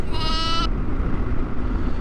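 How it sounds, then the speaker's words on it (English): A sheep on a road in Norway gives one loud, close bleat at the start over a steady low rumble of a vehicle interior. "Is it sheep on the road maybe?"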